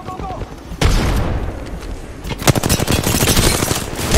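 Rapid gunfire in Apex Legends during a competitive match, dense bursts of shots running close and loud from about a second in, with a sharp cluster of reports later on and voices talking over the action.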